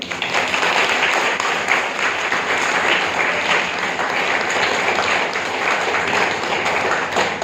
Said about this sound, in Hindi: थोड़ा एक बार ताली बजाओ सब